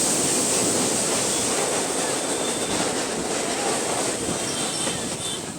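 A Dankuni–Sealdah local train runs on, a loud, steady roar of wheels and rail noise heard from inside the moving carriage, continuous throughout.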